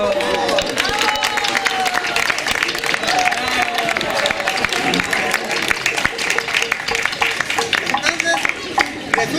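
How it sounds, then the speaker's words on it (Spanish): Audience applause and clapping ringing out amid crowd murmur and voices, dense and lively, with talk running over the claps throughout. "un aplauso, por favor"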